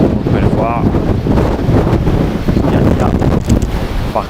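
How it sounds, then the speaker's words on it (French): Strong wind in a new residential district in Russia batters a handheld phone's microphone, producing a loud, constant low rumble and buffeting throughout. "par contre, il y a un fort vent."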